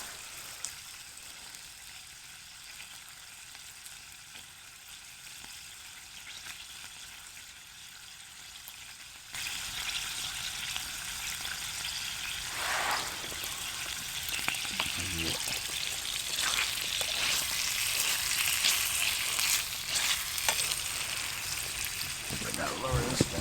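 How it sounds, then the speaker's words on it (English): Bacon fries toward crispy outdoors on a winter hammock camping trip, a quieter hiss at first that swells into a louder, crackling sizzle with occasional pops, sustained throughout. "I like my bacon a little crispy. Like it rendered and crispy."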